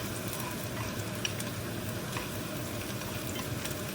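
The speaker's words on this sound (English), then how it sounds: "Oil in the shallots here to stir fry the shrimp." Shrimp stir-frying in hot oil with shallots for Vietnamese noodle soup, a steady close crackling sizzle with occasional sharper pops and stirring noises, no talk.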